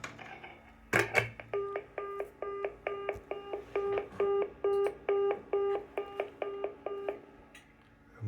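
Telephone keypad dialing tones calling a Macintosh Performa over a home-made dial-up phone line: a burst near the start, then a steady run of about fifteen evenly spaced, clear DTMF beeps at moderate level.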